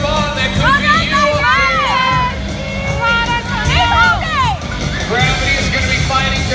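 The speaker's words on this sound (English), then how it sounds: "Audience, feel free to cheer them on." A live audience at the Fear Factor Live stunt show at Universal shouts and cheers, loud overlapping whoops and children's yells that rise and fall in waves over a steady crowd murmur.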